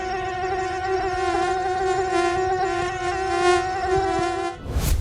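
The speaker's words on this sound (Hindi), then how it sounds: "हाट, बाजार, चाय की दुकान और घरों में भी हर तरफ मच्छर भिन भिनाने लगते हैं।" Mosquitoes buzzing in a steady, loud, close whine with a layered, slightly wavering drone that holds for several seconds and then cuts off abruptly, with no voices.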